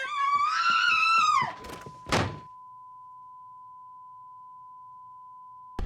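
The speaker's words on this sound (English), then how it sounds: "the noise, the tone, it almost sounded like a flatlining" A pure steady flatline-like tone holding one pitch for several seconds after a brief sung or electronic warbling sound and a single dull thunk, continuing alone and unchanging until it cuts off.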